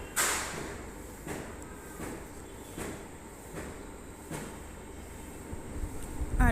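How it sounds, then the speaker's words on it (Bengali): A metro train runs past a station in Mirpur with a faint, distant rumble and regular rhythmic clacks of wheels over the rails, swelling slightly toward the end. "মেট্রো রেল চলে যাচ্ছে।"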